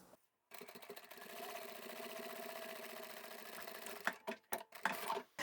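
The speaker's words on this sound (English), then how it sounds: "I'll backstitch here as well and finish up on that side seam" A sewing machine runs a continuous close whirring stretch while backstitching a fabric side seam, then breaks into several short stop-start bursts near the end.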